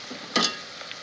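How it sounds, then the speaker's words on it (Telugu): Okra (ladies' finger) frying in hot oil for a tamarind stew, a short burst of crackling sizzle and stirring near the start, then a faint steady hiss with a couple of small pops. "ఈ విధంగా ఫ్రై చేస్తే మాత్రం బెండకాయ చాలా టేస్టీగా ఉంటుంది"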